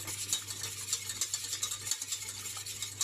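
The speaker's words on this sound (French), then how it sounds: "notre beurre qui est en train de fondre gentiment" Butter melting gently in a pan over low heat, a fine continuous sizzle with soft crackling pops, quiet and close, a faint stirring scrape running underneath.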